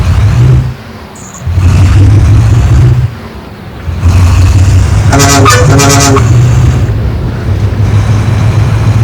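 A private bus drives through congested traffic in the Euro Truck Simulator 2 video game on a route to Tirupur, with a steady engine rumble, shifting revs and two short horn toots in the middle.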